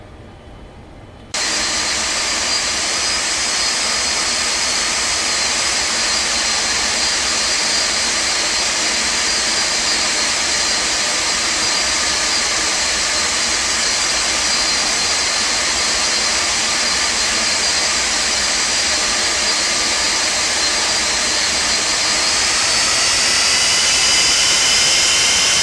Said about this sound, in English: This aircraft taxis like you're taxiing a 300-ton vehicle.